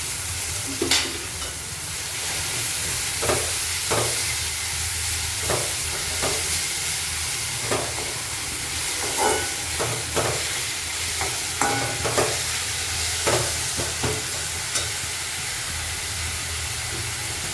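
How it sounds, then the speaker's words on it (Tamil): Tomato, onion, ginger-garlic paste and masala sizzle steadily in a hot pan during egg curry cooking, with a continuous frying hiss broken by repeated short clicks of a spoon stirring against the pan, close and with no talking. "இப்போ மசாலா, இப்போ தக்காளி வெங்காயம் எல்லாமே வதங்கிடுச்சு"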